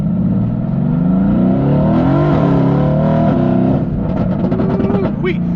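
Exotic car pulling hard from a standstill, engine note climbing steadily and loud and close, with a brief slip and rising pitch near the end as it shifts up.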